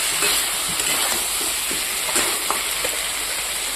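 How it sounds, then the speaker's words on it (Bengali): Fish frying in a pan in a home kitchen, with a steady, close sizzle and crackle that holds evenly throughout. "এদিকে মাছটা বসিয়ে দিয়েছি ভাজার জন্য"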